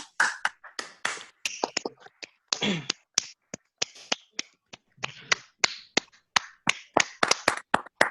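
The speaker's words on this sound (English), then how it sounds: "please unmute your mics and give a huge round of applause to all the speakers of Table Topic session" Scattered claps from a few people over an online club meeting with unmuted microphones, irregular separate hand claps and snaps spread across several seconds, thin and close.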